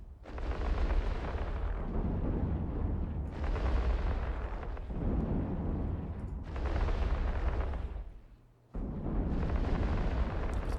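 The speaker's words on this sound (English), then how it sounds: "he's shooting all of his lasers at me and I'm nailing him with missiles" Sustained laser and missile fire in the space game EVE Online, a dense roaring barrage of blasts and bursts that runs in long loud stretches broken by brief drops, with no talking.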